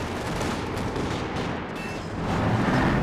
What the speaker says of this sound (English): He goes for a barrage to catch the retreating over, but ends up going down to the Panzer Shreks.